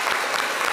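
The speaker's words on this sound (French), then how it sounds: "On va vous applaudir nous-mêmes" Studio audience applause on a live talk show, a brief dense burst of clapping at steady loudness, with no talking over it.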